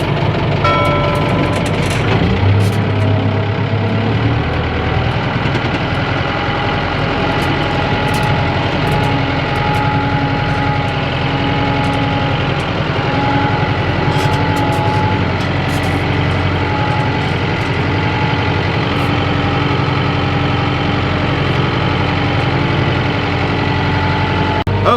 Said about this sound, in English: I just think it's fun to watch a tractor start.